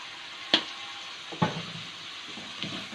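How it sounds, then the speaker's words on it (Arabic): Onions and carrots with spices and paprika sautéing in a pot for Turkish-style lentil soup: a soft, steady sizzle broken by three sharp spoon scrapes or taps while stirring. "نديهم برضو تشويحة كده كله مع بعضه"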